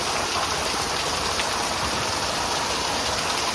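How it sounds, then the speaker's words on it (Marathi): Heavy afternoon rain pours down outside in a dense, unbroken hiss. The downpour holds steady and fairly loud throughout, with no voices over it. "पाऊस बघ किती जोरात आले, भरपूर जोरात आले पाऊस."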